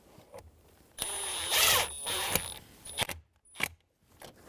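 A screw is driven into the bottom cover of a 2011-2014 Hyundai Sonata steering wheel with a power driver, giving a short close whir followed by a few brief clicks and rattles of plastic trim in a quiet garage.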